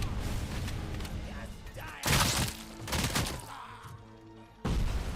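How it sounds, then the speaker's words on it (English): Machine gun fire in the RoboCop video game, loud sustained bursts and heavy impacts in two or three stretches, with dense game noise between them. "That's a fucking machine gun."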